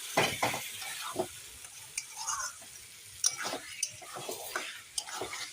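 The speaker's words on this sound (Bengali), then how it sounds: "এখন ভালো করে নেড়ে দেবো চিকেন তো দেওয়া হয়ে গেছে" Chicken is stirred in a frying pan with irregular scraping and clinking strokes of a utensil against the pan over a faint, low sizzle. The sound is fairly quiet and close.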